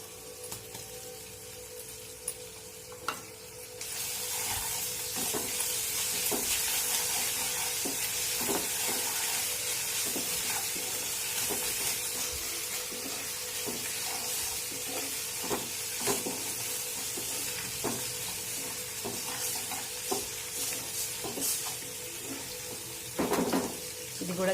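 Ginger garlic paste fries with green chillies in a pan, a steady hissing sizzle that jumps up after a few seconds and continues throughout, dotted with small clicks and scrapes of stirring.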